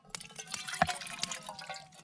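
Lukewarm water poured into a container at a backcountry campsite in the woods: a short, gurgling pour with drips, close and fairly quiet.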